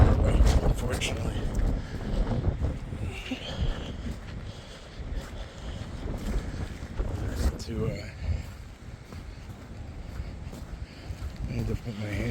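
Strong wind on a mountain trail during a winter night hike, heavy gusty rumble and microphone buffeting throughout, loud and close, with a person talking over it.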